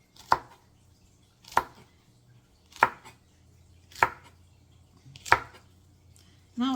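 A knife chops through fresh okra on a board in five sharp, evenly spaced strikes, each a crisp close-up thunk with quiet pauses between.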